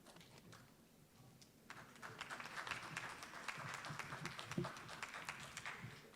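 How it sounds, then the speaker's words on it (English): Thin, scattered applause from a conference audience at a plenary session begins after a quiet moment and carries on as light, patchy clapping. "That sounds like a scanty clap."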